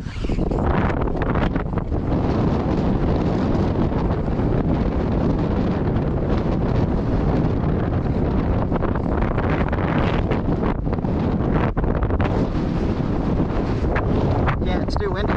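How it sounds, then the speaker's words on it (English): Strong wind buffets the microphone outdoors on rough open terrain, a loud continuous low rumble with gusty surges and rustling that persists for the whole stretch. "Yeah, it's too windy."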